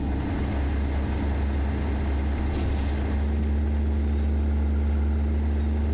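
A Caterpillar diesel engine in a 362 cabover truck idles steadily with a low, constant rumble and drone, heard up close and alone for the whole stretch, with no talk.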